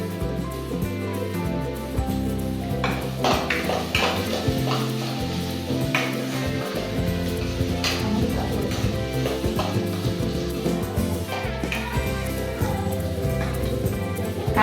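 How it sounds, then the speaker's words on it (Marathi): Onion and garlic sauté in a hot pan for sabudana usal, giving a continuous close sizzle and crackle with occasional stirring scrapes throughout. "कांदा आणि लसूण मस्त आता आपला परतून झाला."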